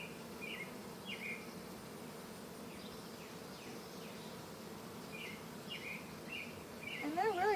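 Honeybees from a newly set-up colony hum in a low, continuous drone close by, with a few faint bird chirps above it and some quiet rustling.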